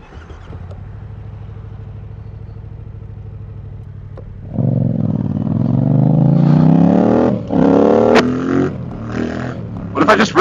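A motorcycle idles, then revs hard and climbs in pitch during a wheelie on a city street, a loud close roar with surges and drops, followed by a voice talking.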